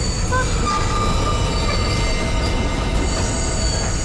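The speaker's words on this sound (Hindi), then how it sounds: "ट्रेन यहाँ क्यों रुकी?" A train slowing on its tracks, with a loud steady rumble of wheels and thin, sustained metallic squeals of braking wheels throughout.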